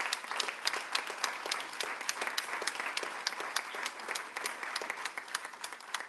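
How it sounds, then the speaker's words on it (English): Audience applause after a talk on artificial intelligence at a Brighton meetup, a dense patter of many hands clapping steadily at moderate volume from start to finish, with no voices on top. "Huge round of applause."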